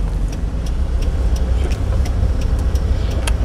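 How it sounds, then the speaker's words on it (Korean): A car pulls away in second gear with a steady, close engine rumble and road noise, and faint ticking over the top. "자, 2단 넣고 브레이크 떼고 출발."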